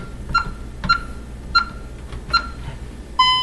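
A home alarm system keypad beeps as a code is entered to disarm it, five short sharp tones spaced about half a second apart, close and clear, the last slightly longer.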